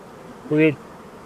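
A short, close buzz of a flying fly, lasting under a second against a quiet background.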